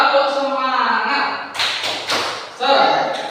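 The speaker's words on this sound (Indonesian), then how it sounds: "Tepuk semangat." A school class does a rhythmic 'tepuk semangat' spirit clap, with several sharp group claps in a patterned beat mixed with children's voices and talk.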